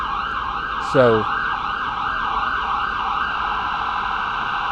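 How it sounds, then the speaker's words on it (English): A siren wails steadily, its pitch rising and falling in a repeating cycle, while a brief spoken word cuts in near the start. "we got the siren."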